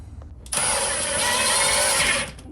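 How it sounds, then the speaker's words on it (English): A power drill drives screws to fasten the base of a drinking fountain to a mudroom wall, one loud, close burst of about two seconds that starts abruptly and then stops. "I'm gonna screw in right here and fasten those down to keep that bottom part from kicking out"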